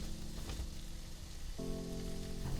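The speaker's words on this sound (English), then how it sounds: "We're going to stir and cook these delicious things until we get a little color on the smoked sausage" Smoked sausage and green onions sizzle steadily in a hot pan, a soft continuous frying hiss with a low hum entering partway through, no talking.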